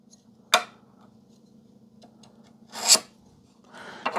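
A carbide scribe scrapes and peels plastic from a Mitsubishi Pajero TCU case in two or three short, close rasping strokes, separated by quiet pauses and faint background hum.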